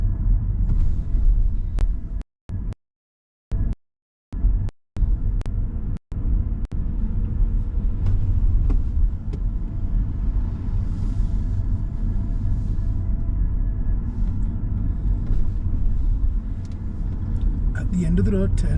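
A car's low, steady road rumble fills the cabin during a driving lesson on approach to mini roundabouts, with a few abrupt dropouts early on and a person speaking over the engine noise.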